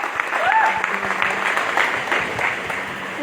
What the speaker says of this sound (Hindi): एक बार जोरदार धमाकेदार तालियां सर के